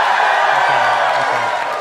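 A convention crowd at Star Wars Celebration Japan 2025 cheers and applauds, a dense loud wash of noise with a voice or two whooping faintly underneath.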